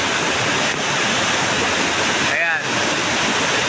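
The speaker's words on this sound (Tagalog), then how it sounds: "Falls yan dyan sa baba." Muddy floodwater pours over a falls in a loud, steady roar that fills the whole clip, with a brief spoken word partway through.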